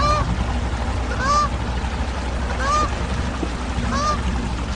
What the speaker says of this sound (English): That daggone goose mess with you